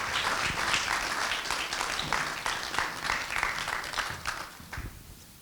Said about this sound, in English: Please give a nice warm applause.